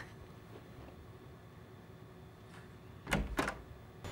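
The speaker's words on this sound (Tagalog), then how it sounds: "may kumakatok" Two quick knocks on a door sound close together near the end, after a stretch of quiet room hum.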